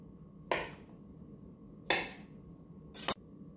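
A knife slices through dough for deegskelmpies on a kitchen surface, giving three separate, quiet, sharp cutting taps spaced about a second apart against a faint background hum.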